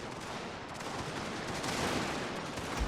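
Gunfire in a Prussian-faction strategy war game: a dense, continuous wash of distant massed musket and rifle volleys crackling steadily throughout, with no clear individual shots and no talk.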